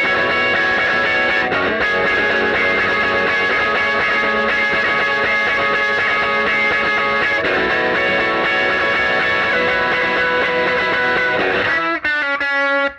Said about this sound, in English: So that whole solo part should sound like this.